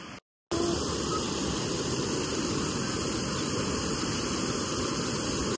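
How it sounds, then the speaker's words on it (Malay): A fast river in Malaysia rushes steadily, a dense continuous roar of flowing water after a brief dropout at the start. "Sungai kat sini cantik."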